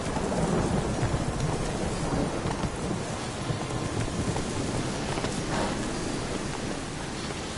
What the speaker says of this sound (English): The storm, damn it.